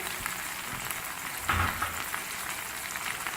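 Cumin seeds dropped into hot oil for spicy pickled potatoes give a quiet, steady crackling sizzle, with a brief louder burst of spattering partway through.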